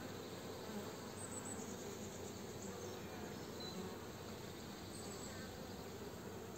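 Honeybees buzz on a hive frame during a March inspection, a dense, steady hum that stays at a constant faint level with no talking over it.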